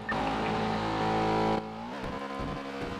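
Loud, steady car engine drone in the video game GTA, heard inside the car, that suddenly drops off, then a lower, uneven engine rumble carries on.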